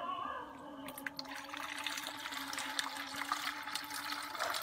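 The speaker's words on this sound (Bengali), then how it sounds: "খাবার পাত্রে সুন্দরভাবে পানি দিয়ে দিচ্ছি" Water pours steadily from a vessel into a feed container for native chickens, a faint continuous splashing and trickle running for several seconds.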